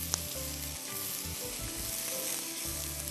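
Ginger and garlic for a peanut soup sizzle in a pot, a close, crackling fry with a steady hiss and occasional stirring bumps.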